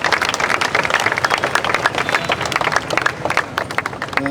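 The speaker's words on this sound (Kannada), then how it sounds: "ಜೋರಾಗಿ ಇನ್ನೊಮ್ಮೆ ಚಪ್ಪಾಳೆ ಸುಜಯ್ ಅವರಿಗೆ" A crowd claps loudly for the architect at a Kargil Vijay Diwas ceremony in Kadri, Mangaluru, where a war tank is being unveiled. The dense, continuous applause holds steady throughout.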